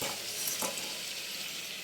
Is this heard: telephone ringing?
no